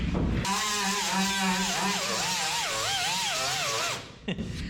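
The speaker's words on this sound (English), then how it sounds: "As you grind magic speed holes up here." A grinder cuts holes into the sheet-metal body of a 1967 Pontiac Firebird, a loud, continuous whine that wavers in pitch as the tool loads and eases. It runs for about three and a half seconds, then stops abruptly.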